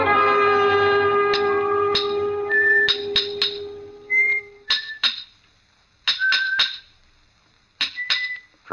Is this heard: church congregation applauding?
no